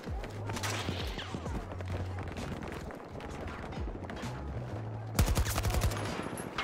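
Rapid bursts of automatic gunfire from weapons in an online shooter game, crackling over steady background clatter and ending in a louder, faster volley near the close.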